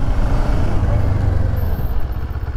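A CFMOTO 650 NK roadster motorcycle in an empty parking lot gives a close, continuous engine drone with a broad rumbling texture as it gathers speed.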